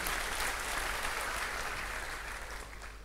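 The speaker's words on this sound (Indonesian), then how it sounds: "Tepuk tangan yuk buat Yesus Kristus." A congregation at a Sunday church service applauds for Jesus Christ, a steady, dense wash of many hands clapping together that holds evenly throughout and eases slightly toward the end.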